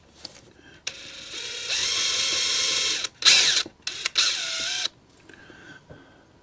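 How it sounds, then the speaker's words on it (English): An ordinary handheld drill boring a hole, likely into a Proto2000 GP38-2 model locomotive shell, whirring in several bursts of rising and steady tone with short pauses between, close and fairly loud. "just drill that hole"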